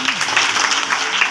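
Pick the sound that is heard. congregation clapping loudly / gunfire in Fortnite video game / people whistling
congregation clapping loudly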